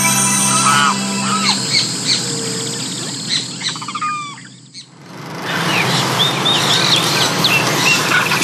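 Parakeets call and chatter around trees in the Andes wilds, with several sharp chirps and squawks over steady forest ambience, a brief lull near the middle, then a denser burst of calls.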